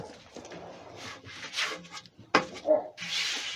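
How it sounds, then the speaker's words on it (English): Sandpaper rubs against the outside of a 17 inch acacia wood bowl during woodturning, giving soft repeated scratchy strokes with a sharp knock partway through, fairly close, without talk. "now I'm going to sand and finish the outside"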